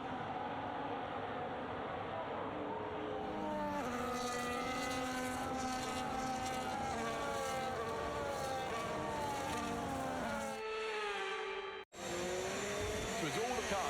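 Formula One race cars in the F1 25 video game roll through a formation lap, several engines droning and rising in pitch together, steady and loud throughout, with a brief sharp cutout near the end.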